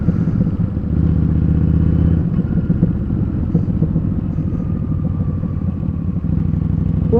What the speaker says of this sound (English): Oh, I love the sound of that exhaust.